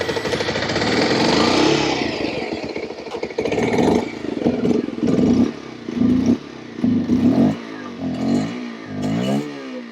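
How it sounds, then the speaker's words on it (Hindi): A Hero Glamour Xtec 125 or Bajaj Pulsar 125 motorcycle engine cranks and catches, then runs with uneven pulsing bursts and short blips of throttle, recorded up close. "बाइक को हम स्टार्ट करके भी देख लेते हैं कि कैसा साउंड"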